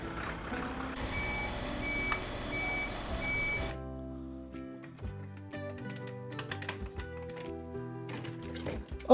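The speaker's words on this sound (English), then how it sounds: "Oh look, a trash truck." Garbage truck reversing with repeated electronic warning beeps amid clattering mechanical noise and busy sound effects, moderately loud, without talk.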